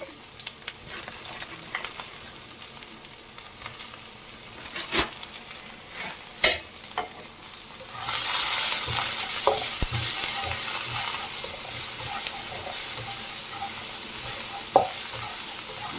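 A spoonful of garlic hits a hot pan and starts sautéing, giving a loud, steady sizzle. Stirring scrapes and clinks come before and during the frying.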